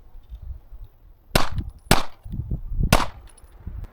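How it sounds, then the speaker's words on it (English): Shadow Systems CR920X pistol fired downrange at a range, three sharp, loud gunshots spaced about half a second to a second apart, with low rumbling background noise between shots. "Put some more rounds downrange,"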